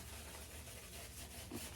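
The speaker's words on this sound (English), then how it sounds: "So I'm going to face lather now." Natural citrus shaving cream being worked into a lather on the face with a brush, a soft, steady close scrubbing and rubbing sound that runs unbroken through the whole short stretch, with no talking.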